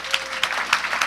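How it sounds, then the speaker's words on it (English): Applause from an audience at a company's annual members meeting and party, a brief steady burst of many hands clapping with scattered sharper claps, fairly close and with no talk over it. "Let's give him a round of applause"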